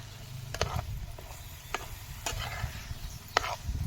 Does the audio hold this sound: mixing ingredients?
yes